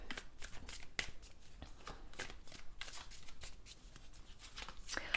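An Awakening Avalon Oracle card deck being shuffled by hand, continuous quiet riffling and flicking of cards with soft taps, close-up and alone.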